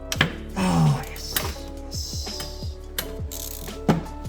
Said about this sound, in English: we found the life hack for pulling this manifold nut off. Yep. Swivel socket.